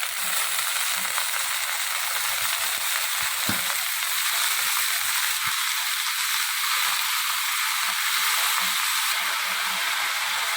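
Chopped amaranth leaves frying in a pan with tomato, a steady bright sizzle with occasional soft clicks and scrapes of stirring.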